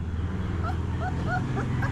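Puppies greeting at a house give high, whimpering yips several times in a row over a loud, steady background rumble.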